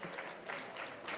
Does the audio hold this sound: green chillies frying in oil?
no